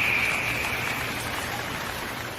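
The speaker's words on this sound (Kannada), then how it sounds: "ಹೊರಗೆ ಮಳೆ ಜೋರಾಗಿ ಸುರಿಯುತ್ತಿದೆ." Heavy rain pouring as a cartoon sound effect, a steady, even hiss of falling water with a faint high tone fading early, continuous and close with no voices.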